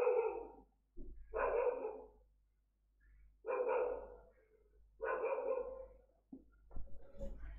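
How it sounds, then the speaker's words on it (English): A dog barks at the neighbours in four loud bursts of rapid barking, each separated by a short pause, followed by a few softer yips and whimpers at the end. "She loves that, having a good bark at the neighbours."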